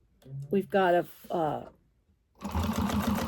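Sewing machine stitching to baste fabric shut, a steady fast mechanical whir starting after a pause and running close and loud to the end, with a voice talking briefly before it starts.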